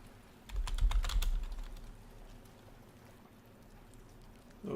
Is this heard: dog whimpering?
no